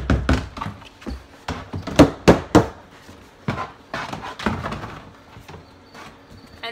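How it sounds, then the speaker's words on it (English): A paper towel shaken over a bin in a cricket breeding setup gives irregular papery flaps, taps and thumps of varying loudness, close by. "Shake the paper towel."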